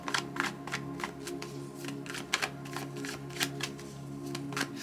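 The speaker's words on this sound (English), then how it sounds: "Let's shuffle." Playing cards are shuffled repeatedly, crisp riffling bursts in a quick, uneven rhythm, close and fairly quiet.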